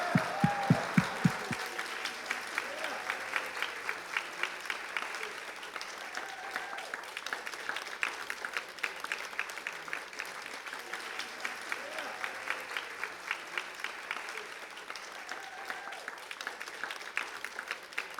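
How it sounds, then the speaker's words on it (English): Audience at a storytelling event breaking into a long, steady round of applause, dense and sustained clapping from a large crowd that carries on evenly throughout. "how about one last big round of applause for these?"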